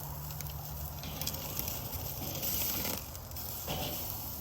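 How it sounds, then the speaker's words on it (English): Sous vide steak sears over a hot charcoal grill, giving a soft continuous sizzle and crackle with light patter, fairly close and unbroken by speech. "put the sous vide, get a little charcoal action on there"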